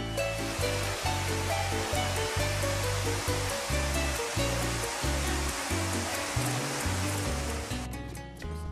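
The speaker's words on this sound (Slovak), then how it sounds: "sa pristavujeme pri jednom z najvyšších divov, ktorým je jaspisová rieka Rio Jaspe, s krásnym vodopádom vytvoreným z krvavo-červeného jaspisu" Waterfall on the Rio Jaspe, a river of blood-red jasper in Venezuela's Gran Sabana, sending up a steady, dense roar of rushing water that runs the whole time beneath prominent background music.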